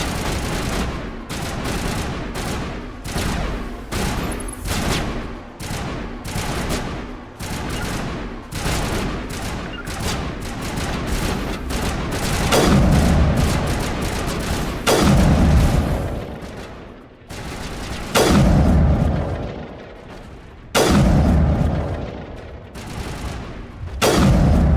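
Rapid bursts of gunfire from the video game Mass Effect 1, loud and close, with dense volleys broken by short pauses and heavy booming shots.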